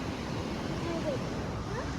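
Steady broadband roar of sea waves washing onto a beach, continuous and fairly loud, with wind noise mixed in and faint voices in the background.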